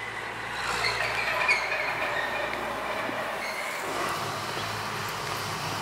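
Big dump trucks working in the background near a beekeeping yard, a steady broad rumble and grinding hiss with a squealing edge, continuous and moderately loud, no speech.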